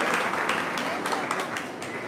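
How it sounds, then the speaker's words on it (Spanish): A gathered congregation applauds a man, a dense, even spread of clapping hands filling the room, with a voice faintly audible beneath it. "le damos un aplauso al hermano"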